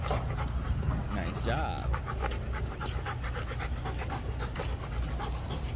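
A small dog pants rapidly and steadily up close during a training session, with faint whimpers and people talking over it.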